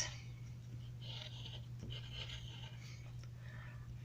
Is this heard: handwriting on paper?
yes